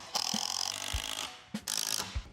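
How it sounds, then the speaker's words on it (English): A power driver sinks screws through a piece of scrap wood into a pallet table leg in two whirring bursts, each ending with a low thump as the screw seats. The sound is close and loud. "I'll screw in here and here."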